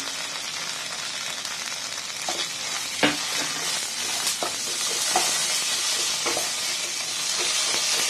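Ground coriander and cumin paste fries in a hot pan, a steady broad sizzle throughout with a few sharp spits and pops and soft stirring scrapes, close and fairly loud, no talking.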